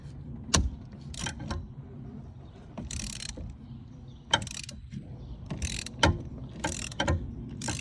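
A ratchet socket wrench clicks in short, quick bursts while loosening the negative terminal on a Cadillac Escalade's car battery, with quiet pauses between the runs of ratcheting, heard close up.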